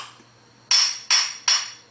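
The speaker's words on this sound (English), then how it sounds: "I'm just taking a hammer and just doing a light" Three sharp metallic taps from a light hammer striking the bearing of a 2005 Moomba Mobius LSV boat raw water pump, evenly spaced, close and ringing, over faint background hum.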